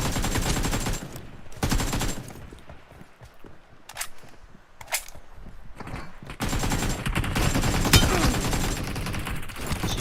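Dense bursts of automatic gunfire from the battle-royale mobile game BGMI, loud and rapid, broken by a quieter stretch with scattered shots before the sustained firing resumes.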